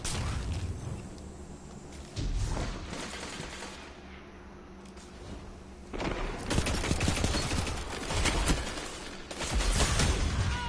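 Bursts of gunfire from a PS4 shooter game, loud and rapid, arriving in dense clusters with a quieter stretch in the middle and heavier volleys toward the end.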